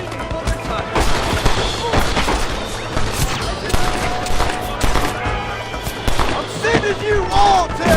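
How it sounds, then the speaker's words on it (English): Enemies on a cliff fire down in the video game Red Dead Redemption: dense, continuous gunshots crackle through a busy battle soundscape with impacts and shouted voices. "They're shooting down on us!"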